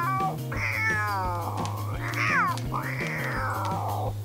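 A cat meows three times in a row, each cry drawn out and wavering, loud and close against a steady background hum with no talking.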